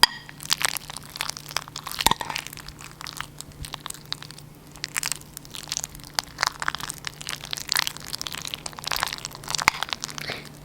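Ripe banana being mashed with a fork in a bowl, close up: soft, wet, irregular squishing and crunching taps at low level, continuous with no talk.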